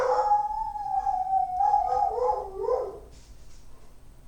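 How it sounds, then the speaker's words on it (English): A dog howls in a long, wavering, drawn-out cry that rises and falls, then trails off into quieter yips, heard at a moderate distance and alone, with no talk over it. "Dog was barking. Maybe you heard him."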